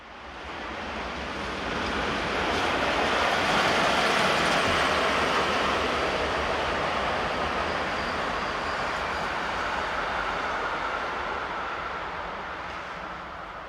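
Two locomotives haul an empty coaching stock train near Zurich. A steady, broad rumble swells as the train passes and holds for several seconds before slowly easing.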